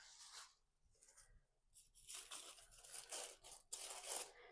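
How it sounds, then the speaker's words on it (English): Packaging around Flame Boss 500 smoker controller parts and an HFB mount is torn and crinkled open, with bursts of rustling and ripping that grow louder and busier in the second half, no talking. "So let's unwrap everything here."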